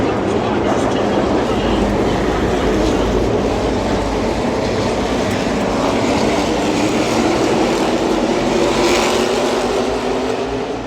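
Race cars roar past continuously at the Charlotte Memorial Day weekend race, a loud, dense, unbroken engine drone with crowd and track ambience and a voice faintly mixed in.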